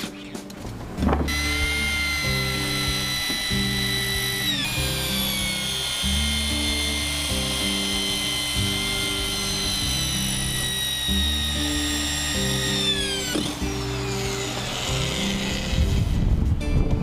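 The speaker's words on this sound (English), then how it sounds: "I'm ahead of him drilling in these corners so I can put the foam in" A high-pitched power drill whines steadily and loudly, boring into the corners of oak logs on a log home kit, with a low rhythmic thumping underneath and a brief pause midway.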